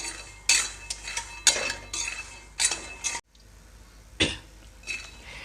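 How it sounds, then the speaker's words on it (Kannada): Peanuts are dry-roasted in a pan over a medium flame for Chintamani-style spiced peanuts, with bursts of scraping and clinking as a spoon stirs them, separated by brief quiet gaps. "ಕೈ ಬಿಡದೆ ಈ ಥರ ಶೇಂಗಾ ಬೀಜನ ಮೇಲ್ಗಡೆ ಸಿಪ್ಪೆ ಬಿಡೋ ಥರ ಹುರ್ಕೋಬೇಕು"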